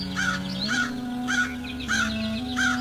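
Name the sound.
baby crow cawing in a cartoon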